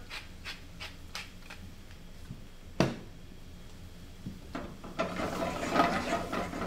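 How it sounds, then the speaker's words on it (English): A pepper mill cranked a couple of times over a shrimp dish, giving a short series of dry ratcheting grinds up close, followed by a sharp clack and a louder rustling, scraping stretch. "Just a couple of cranks of pepper"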